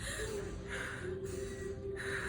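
A person imitates the panicked gasping breaths of someone freaking out, making several quick, sharp, close-up inhalations in an even rhythm.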